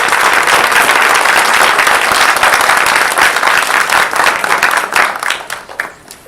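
A school board meeting audience gives a round of applause for four counselors, dense steady clapping that fills the room before tapering off and fading out near the end.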